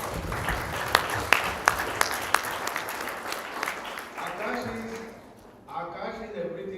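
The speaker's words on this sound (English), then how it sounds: "Give him a big round of applause." Audience applause at a youth-focused summit event, a dense wash of clapping with a few sharper claps standing out, fading into quieter room sound and voices toward the end.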